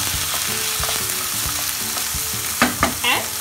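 Chopped onions hit a hot pan for a potato capsicum curry and sizzle steadily, close and loud, while a spoon scrapes and stirs in a few quick strokes near the end.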